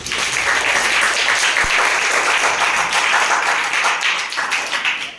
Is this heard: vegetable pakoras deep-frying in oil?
no